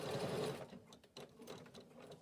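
Close, quiet whirring of a sewing machine stitching a fabric seam with strong thread, a steady mechanical buzz that briefly dips and resumes.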